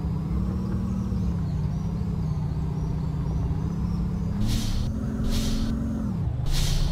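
A Mercedes-Benz 1518 truck in Euro Truck Simulator 2 drones steadily with a low engine hum, then three sharp, loud air brake hisses burst out in quick succession near the end.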